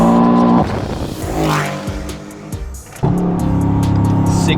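An 800 wheel horsepower AMG GT S roars through a tire warm-up burnout, then pauses and launches hard, with loud rising engine revs and gear changes close by.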